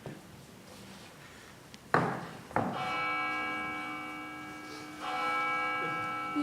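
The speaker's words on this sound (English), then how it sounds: "You hear those bells, madam?" Church bells ring at a theatrical stage performance, with two sharp strikes followed by a sustained, resonant ringing tone that swells again partway through, moderately loud against a quiet room.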